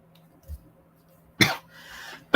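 A person still recovering from COVID gives two sharp, close coughs separated by a short pause, with a throat-clearing quality in an otherwise quiet room.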